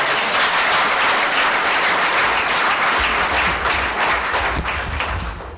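A large crowd applauds the First Lady Olive Lembe Kabila at a public medical-campaign event, loud sustained clapping that fills the space, with a few low thumps and murmurs near the end as the ovation begins to fade.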